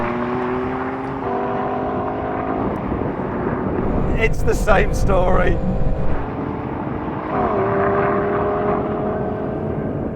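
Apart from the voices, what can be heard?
BMW M2 engine accelerating in drag race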